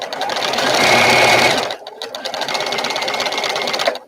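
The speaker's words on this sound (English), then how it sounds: "now I'm going to be quiet and sew faster and let you hear" A quilting sewing machine runs fast in a loud, rapid mechanical chatter, breaks off briefly after about a second and a half, then resumes its quick, even stitching rhythm.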